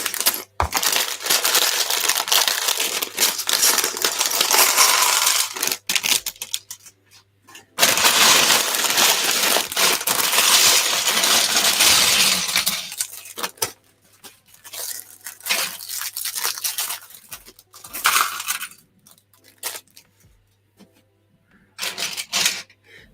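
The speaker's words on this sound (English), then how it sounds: "Excuse the bag noise." Crinkly plastic bag of LEGO pieces being handled, giving long bursts of dense rustling and crackling with brief pauses and a few sharp clicks, close and fairly loud, with no talking.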